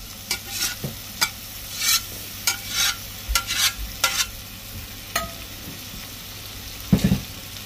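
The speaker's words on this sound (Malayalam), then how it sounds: "ഇനി നമുക്ക് ബീഫ് ഇട്ട് കൊടുക്കാം." Beef dropped into a hot pan and fried, with a series of sharp stirring scrapes and knocks over a soft sizzle, close by and free of speech.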